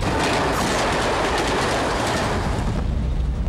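A train runs along the rails with a loud, continuous roar and rhythmic clickety-clack of wheels, close by and steady throughout, with no voices.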